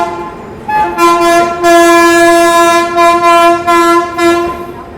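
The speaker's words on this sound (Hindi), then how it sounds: "बलिया नई दिल्ली सुपरफास्ट एक्सप्रेस अराइव करती हुई प्लेटफॉर्म नंबर 1 पे" The Ballia–New Delhi Superfast Express pulls into platform 1 at a railway station, sounding a loud, sustained horn in several long, pulsing blasts close by.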